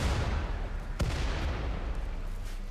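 A single sharp artillery shot cracks out from a Rimworld colony battle, standing out once against a steady low rumble of background game noise.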